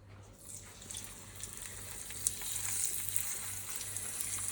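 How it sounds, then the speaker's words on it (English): Grouse seasoned with salt searing in a hot pan: a steady, faint sizzle and hiss that builds slightly, heard alone with a low background hum. "So I'm just going to seal my grouse."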